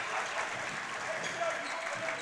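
Crowd applause at a high school boys basketball championship game in a gym, a steady dense wash of clapping that holds even and loud through the stretch, with faint voices mixed in.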